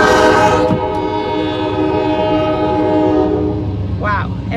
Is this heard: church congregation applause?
no